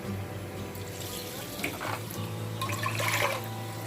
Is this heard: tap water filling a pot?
yes